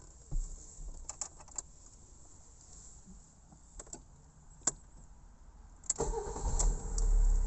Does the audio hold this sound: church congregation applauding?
no